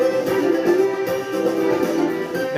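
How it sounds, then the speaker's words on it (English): Folk band playing an English sea shanty, dense harmonic instruments and voices sustained at a steady loud level with rhythmic accents throughout, no talk over it. "Now, this song, it's a sea shanty."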